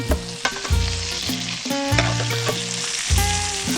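Fish slowly grilling over an open campfire in a jungle survival camp, a steady close sizzle and crackle running throughout beneath bursts of music-like tonal sound.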